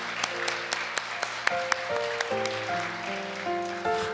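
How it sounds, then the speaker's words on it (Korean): An audience at a church blessing festival applauds the participants, a thin patter of clapping at moderate distance under a melodic instrumental music cue with distinct sustained notes. "큰 박수 부탁드리겠습니다"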